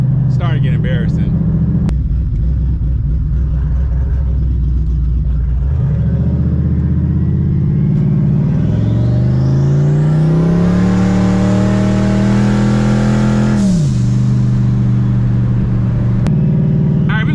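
A Mustang with an aftermarket part idles loudly, then revs up, its pitch climbing and holding while driving before dropping back, a close, heavy engine roar.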